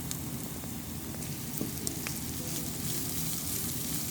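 Sausage frying in a pan, a soft, steady sizzle with faint crackles and occasional small pops throughout, fairly quiet and without speech.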